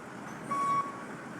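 A truck backing into a station gives a single steady electronic reversing beep, faint over low engine rumble and road ambience.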